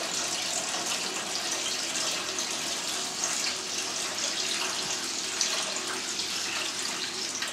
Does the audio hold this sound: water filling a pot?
yes